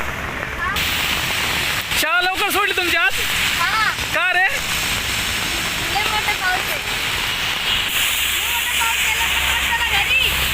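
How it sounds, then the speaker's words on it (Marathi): Heavy rain pours in a constant hiss and patter on surfaces all around, while children and adults talk over it close by. "पाऊस कसा वर बघा ना जरा हा पाऊस कसा आहे हा लय पाऊस आहे"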